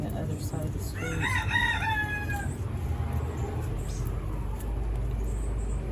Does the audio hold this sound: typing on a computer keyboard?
no